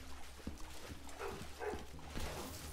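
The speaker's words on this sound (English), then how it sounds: "And my dog is barking." A pet dog barks faintly in the background, a few short, distant yips and woofs scattered over a low room hum, with muffled voice-like sounds nearby.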